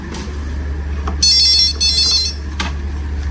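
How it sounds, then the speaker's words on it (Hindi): An intercom phone in a hotel room in China rings with a buzzy electronic trill in one long burst and a shorter one, heard over a steady low room hum with a few soft clicks. "चीनी ज़ुबान में वो फ़ोन बजा, इंटरकॉम"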